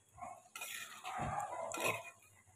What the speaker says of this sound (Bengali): একটু নেড়ে দিলাম, নাহলে নিচে লেগে যেতে পারে।